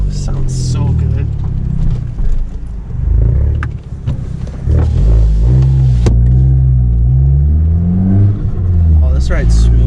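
A 2013 Dodge Dart with a Mopar 496/500 package rumbles steadily while driving, a continuous loud low engine drone with swells, heard alongside music and voices in the cabin.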